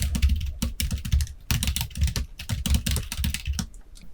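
A computer keyboard clatters close by as a chart title is typed, with rapid, uneven keystrokes in short bursts and a few brief pauses.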